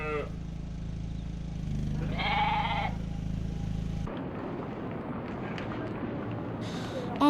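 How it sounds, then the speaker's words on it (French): Sheep bleat in a short wavering burst midway over a steady low hum, then the scene shifts to a rougher outdoor wash with a faint high bleat near the end. "Ceux-là, il disait, ce sont les moutons."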